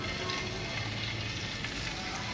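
Marinated chicken frying in a greased pan for a club sandwich, a soft, even hiss and crackle, steady and fairly faint, close by with no speech.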